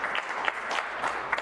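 Many hands clap in a dense, even round of applause from the audience at a city public hearing on short-term rentals in Lexington, filling the short stretch without voices.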